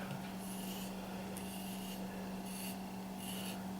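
Knife blade shaving arm hair in a sharpness test, faint short scraping strokes recurring every second or so, close up over a constant low electrical hum.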